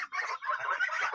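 A single goose calls in a short, harsh honking burst lasting about a second, close by on a farm with a chicken tractor.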